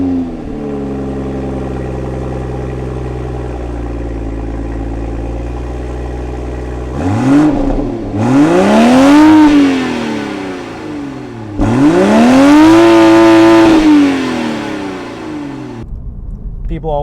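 A 2024 Toyota Supra 3.0 engine idles, then revs hard twice, each pitch climbing and falling in a loud, close roar before settling back.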